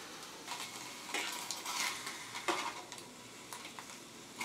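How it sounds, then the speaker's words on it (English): Soft, steady hissing and crackling of food sizzling in a pan, with occasional light clinks and stirring scrapes, no talking. "It's sizzling."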